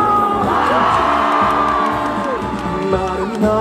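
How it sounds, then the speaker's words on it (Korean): Outdoor festival concert crowd at the Sangju World Hat Festival cheering loudly for a singer, with whoops and shouts rising over steady stage music throughout. "다같이 박수와 함성 한번더 박수와 함성"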